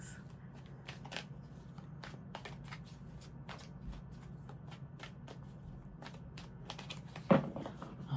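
A deck of tarot cards is shuffled by hand close up, giving a run of quick, crisp riffling snaps and soft papery flicks over a low steady room hum, with a louder bump near the end.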